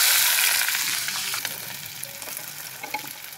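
Chopped onion hisses into hot oil in a pan, a loud bright sizzle at first that settles into a steadier, softer frying crackle while being stirred.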